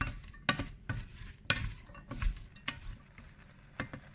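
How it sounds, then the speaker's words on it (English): Vegetables with spices sautéing in a soup pot, a quiet sizzle broken by a series of sharp spoon scrapes and knocks against the pot at irregular intervals. "Saute the vegetable for a few minutes, 3-4 minutes"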